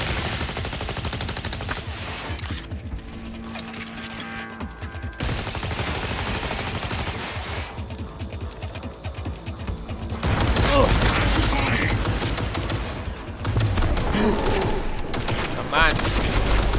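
Machine gun fire in Cyberpunk 2077: Phantom Liberty during a terrorist attack, sustained loud rattling bursts and fusillades stopping and restarting several times, with speech mixed in.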